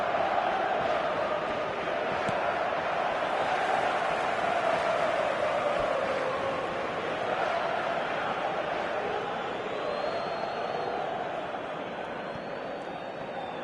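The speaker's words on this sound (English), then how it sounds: "the crowd's impatience is an indicator that they haven't quite given up on a goal just yet" An impatient football stadium crowd during a match keeps up a dense, steady roar and murmur, unbroken for the whole stretch, with no distinct speech.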